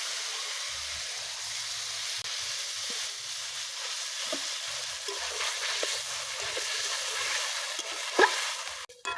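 Ground mustard paste and water go into a pan of frying radish, bringing a steady close hiss and sizzle that swells slightly, with faint stirring scrapes and a brief clatter at the end.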